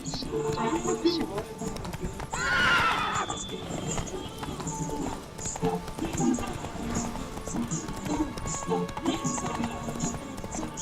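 Roach, the horse in The Witcher 3: Wild Hunt, runs with rhythmic hoofbeats under ongoing talk, and a brief whinny-like burst rises early on.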